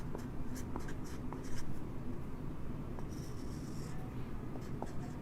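Chalk or a marker scratches steadily across a classroom board during an organic chemistry lesson, a close continuous writing sound with short taps as letters form, with no speech.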